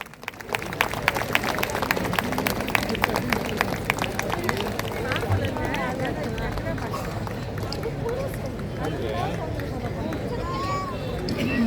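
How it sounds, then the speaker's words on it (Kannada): Steady applause from a large audience at a 125th jubilee celebration of a church, sustained clapping filling the hall with crowd murmur underneath. "ಚಪ್ಪಾಳೆಯ ಸದ್ದು ನಿರಂತರವಾಗಿರಬೇಕು."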